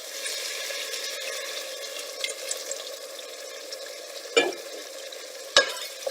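Steady stirring of Maltese tomato pasta soup in a pot with a soft simmering sizzle underneath, broken by a couple of sharper scrapes or knocks of the spoon.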